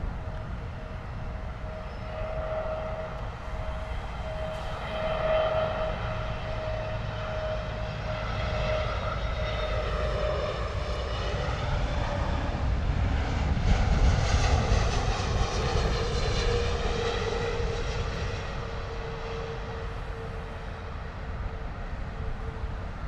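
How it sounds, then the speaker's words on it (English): An Airbus A320neo touches down hard at London Heathrow, its engines roaring steadily with a rising whine and rumble that swells near the middle, heard continuously at a distance with no voices. "hard landing there from the A320neo"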